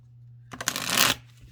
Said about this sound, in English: Look how nicely those shuffle.